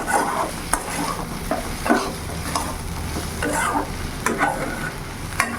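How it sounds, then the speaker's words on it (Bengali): Okra masala frying in a pan in dhaba style, a steady close sizzle with repeated scraping stirs of a spatula at irregular intervals, no talking. "সুন্দর ভাজাও হয়েছে।"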